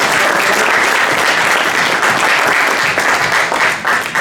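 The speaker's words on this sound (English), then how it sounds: "round of applause for Tony" An evening-event audience gives a sustained, loud round of applause for the outgoing chairman, thick continuous clapping close by with no pause.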